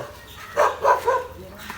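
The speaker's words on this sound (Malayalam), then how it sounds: "ആ പട്ടിതാ" A dog barks three times in quick succession, moderately close, over a quiet background.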